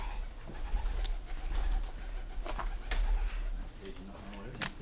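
Pigeons coo repeatedly nearby inside an abandoned high school, with occasional sharp flutters and clatters, over a low rumbling background.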